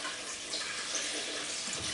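A darkroom sink faucet runs while photographic prints are washed, a steady soft rush of water that stays fairly faint through the whole moment.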